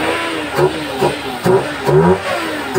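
A Toyota Wigo engine runs after finally starting, revving in repeated rhythmic surges about every half second, close and loud with a voice talking over it.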